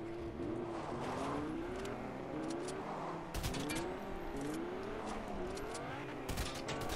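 A car driving in a video game, its engine revving up and down in repeated rising sweeps with occasional sharp bumps, faint overall and continuous throughout, with no voices.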